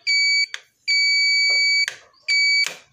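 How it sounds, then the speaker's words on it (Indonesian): A Yamaha Freego scooter's alarm buzzer beeps three times in short, evenly spaced electronic bursts, close and clear, with faint clicks and handling noises between the beeps. "buzzernya bunyi"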